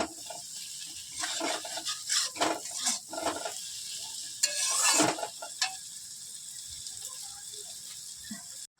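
Potato, onion, tomato and garlic chochchori sizzling in plenty of oil in a pan, with steady frying crackle and repeated scraping stirs of a spatula, moderately close.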